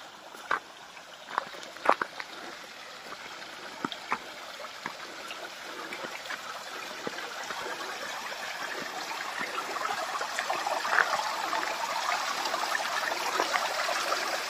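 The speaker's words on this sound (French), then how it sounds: "il y a de l'eau qui coule là" A small stream flows beside woodland with a steady, moderately close wash of water, broken by a few sharp drips and ticks early on and swelling slightly louder toward the end. No voices.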